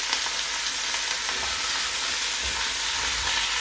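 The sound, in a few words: onions and lamb meat frying in pan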